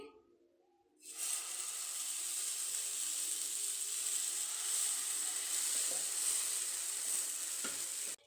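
Idli batter poured onto a hot pan for uttapam starts sizzling and frying, a steady close hiss that begins sharply after a quiet second and holds, with faint clinks of handling.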